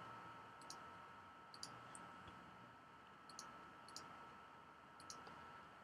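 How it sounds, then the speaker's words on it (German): Computer mouse clicks sound in small pairs of sharp, faint ticks, about five groups spaced a second apart, over a low steady background hiss with no voices. "Diese werden jeweils mit 3 Mausklicks definiert."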